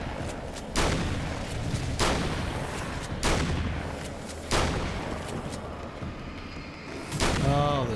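Gunshots ring out in the video game Alan Wake American Nightmare: five loud, evenly spaced blasts, roughly a second apart, each with a ringing tail, followed by a short voice at the end.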